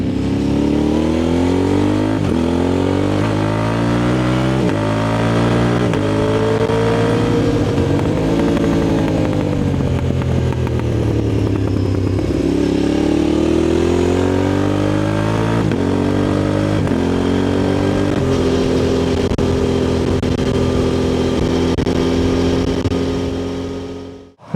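Motorcycle exhaust recorded up close from a mic clipped to the rider's belt, a loud continuous engine drone that revs up and down repeatedly through gear changes, sustained throughout with no voices.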